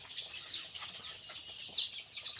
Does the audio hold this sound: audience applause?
no